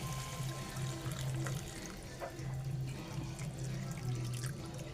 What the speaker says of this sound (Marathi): तुम्हाला आता मी याच्यामध्ये टाकणार आहे ते गरम पाणी